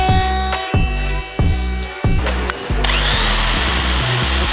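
An electric drill whirs in several short bursts, stopping and restarting, then runs into a harsher grinding noise; close and fairly loud.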